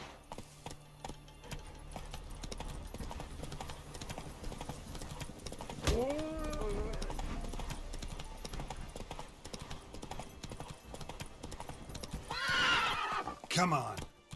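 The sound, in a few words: horse neighing and hooves, from video game The Witcher 3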